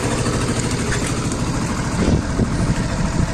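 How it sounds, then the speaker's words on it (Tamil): A 2020 Suzuki Access BS6 scooter, self-started and idling with about 17,088 km on it, gives a steady, even engine hum heard up close with no voices over it. "வண்டி ஸ்டார்ட் ஆகிடுச்சு"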